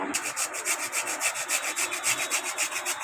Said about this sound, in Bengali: এখন আমি বিটটা ঘষে নেব